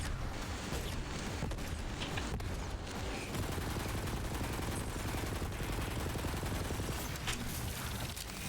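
Dense, continuous gunfire and rapid bursts of rockets and shooting in the Borderlands 3 video game, loud and relentless throughout, with no voices over the barrage.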